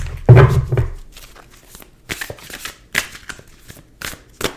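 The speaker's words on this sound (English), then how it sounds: "2 more shuffles for Taurus." Cards are shuffled in a burst of riffling, followed by several lighter flicks and taps at an uneven pace, close by.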